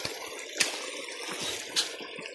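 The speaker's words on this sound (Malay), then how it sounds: "Banyak anak sungai." Small forest stream on a hiking trail in Malaysia, water trickling and dripping nearby with a few sharper splashes over a soft constant flow.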